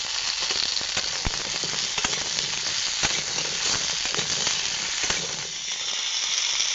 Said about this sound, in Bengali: আলু আর বড় আলু পেঁয়াজ লঙ্কার সঙ্গে হালকা করে ভেজে নিয়েছি।